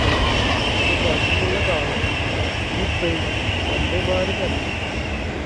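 Loud, steady rumble of a passing Avanti passenger train bound for London, a continuous roar with rhythmic rattling and a faint high whine.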